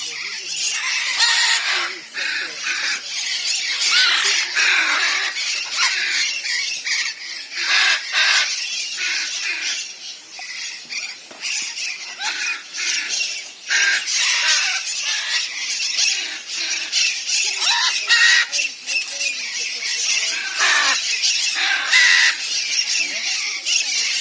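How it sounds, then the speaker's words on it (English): Parrots squawking at Doué-la-Fontaine zoo, a continuous chorus of loud harsh shrieks and calls from several birds, close and dense with no pauses. "I like the parrots, so we're going to concentrate on the parrots today"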